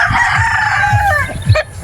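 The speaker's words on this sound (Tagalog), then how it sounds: "may manok eh." A rooster crows loudly and close by at a backyard chicken pen in a rural neighbourhood, one long drawn-out call followed by a few short clucks.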